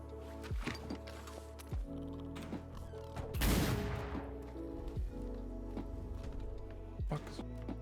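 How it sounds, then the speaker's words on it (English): Bursts of gunfire in a roleplay video game, several sharp shots at irregular intervals with one louder, denser volley in the middle, set against background game noise. "Who's shooting near the hospital? They're shooting off the top of the hospital."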